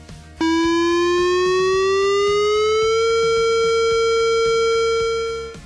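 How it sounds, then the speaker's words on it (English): A loud outdoor emergency warning siren mounted on an 80-foot pole starts abruptly and holds a steady, slowly rising wail for several seconds before fading slightly at the end. "The siren will enunciate and will sound like this."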